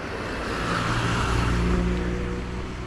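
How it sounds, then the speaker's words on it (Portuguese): A car driving past on a street in the small town of Lupércio, São Paulo, rising to a broad low rumble mid-clip and easing off, steady and fairly close with no voices. "Apareceu um carro aí."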